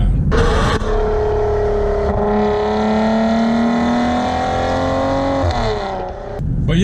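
A 2019 Maserati Quattroporte Granlusso S accelerating, its engine note rising steadily in pitch as a loud, close, sustained drone, easing off briefly before climbing again.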